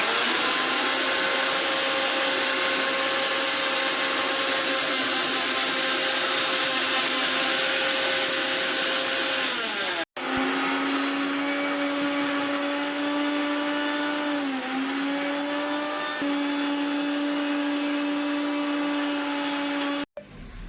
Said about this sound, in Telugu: ఇక్కడ వచ్చేసి మనం మిక్సీ చేసుకోవాలన్నమాట.